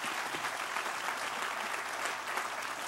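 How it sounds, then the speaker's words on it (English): Audience applause at a groundbreaking ceremony, a dense even wash of many hands clapping, loud and sustained throughout without pauses or voices. "he deserves one more round of applause for the extraordinary work that he does"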